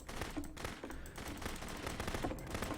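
Rapid bursts of video-game gunfire crackle in dense, continuous volleys with no talking, sounding like an automatic weapon fired steadily for a few seconds.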